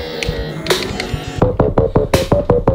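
Modular synthesizer bass pushed into a warped, weird tone, heard as a steady hum and then a rapid run of punchy, throbbing low pulses with bright clicks, close and with no talking.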